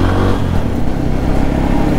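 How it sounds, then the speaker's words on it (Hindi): A group of motorcycles, including a Jawa 42, rides together through Bhagalpur city streets, their engines making a loud, continuous low rumble close by. "बाइकों का क्राउड।"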